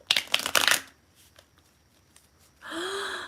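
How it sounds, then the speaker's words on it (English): A deck of playing cards is riffled in a quick burst of crisp flutter, followed by softer taps as the cards settle, then a breathy exhale or sigh close to the microphone. "Hang on, gotta shuffle."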